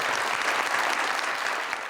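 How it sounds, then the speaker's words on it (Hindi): Studio audience on a talk show breaks into applause, a dense burst of clapping that stays full and steady throughout the short moment. "बहुत सारी तालियां जवाब ना देने पे"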